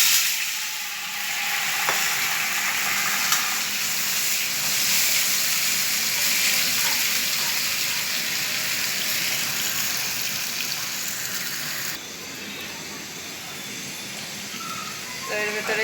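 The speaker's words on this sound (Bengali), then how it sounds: "এবার আমি বেটে রাখা এই মশলাটুকু দিয়ে দিলাম মশলা কষানোর জন্য হালকা একটু জল দিয়ে দিলাম" Ground spice paste with a splash of water fries in a pan for a bitter gourd leaf dish, a loud, steady sizzling hiss that runs throughout and dips slightly near the end.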